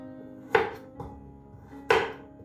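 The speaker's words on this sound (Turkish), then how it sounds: "Şimdi havucumuzu, patatesimizi ve soğanımızı doğrayacağız." A knife strikes a cutting board a few times, chopping carrots, potatoes and onions, sharp chops separated by short pauses, close and alone.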